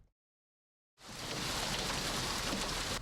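Hail pours down fast and hard outside a TV station in North Knoxville at night, a dense steady roar that starts abruptly after a moment of silence.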